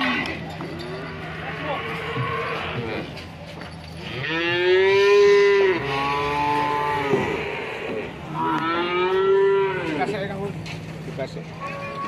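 Cattle low loudly at a busy morning cattle market, two long drawn-out moos close by, with people talking and crowd noise throughout.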